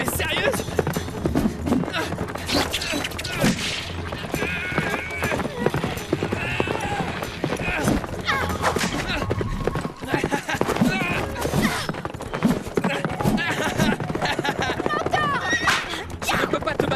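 Horse hooves clip-clop at a gallop during a mounted fight scene, a fast, continuous pounding under loud action music and voices.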